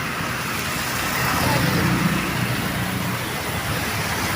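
Congested road traffic near an airport: a steady, dense wash of car and vehicle engine noise, close and continuous, swelling slightly midway with no voices over it.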